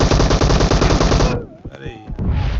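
Rapid automatic gunfire from UZI and Vector submachine guns in the video game PUBG, a loud continuous spray that cuts off abruptly, followed by a short gap of faint game sounds before the firing resumes.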